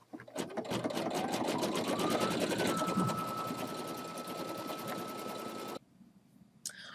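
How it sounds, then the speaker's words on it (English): Embroidery machine sewing an applique material stitch to hold the applique fabric onto the base fabric, a fast, steady mechanical chatter with a rising motor whine, close and continuous, stopping abruptly near the end. "now next comes the material stitch, which is step number 3, and that's just going to adhere this applique material to the base fabric"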